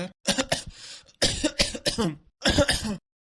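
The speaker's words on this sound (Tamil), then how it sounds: "உடம்புக்கு என்னாச்சு இப்படி இருமுறீங்க?" Several harsh coughs in quick clusters, loud and close, with short pauses between the fits.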